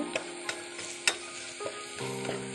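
Ingredients for a chickpea masala curry are sautéed and stirred in a pan: soft frying sizzle under a few sharp spatula clinks and scrapes, close and fairly quiet, with no voice.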